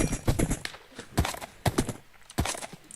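Horse hooves clip-clopping in the Minecraft video game, several distinct hoof strikes in an uneven walking rhythm, fairly close and clear with no talk over them.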